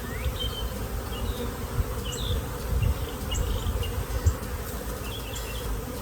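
Honeybees buzzing in an open beehive, a dense close hum with individual bees whining past and small knocks from handling the hive, and no voices.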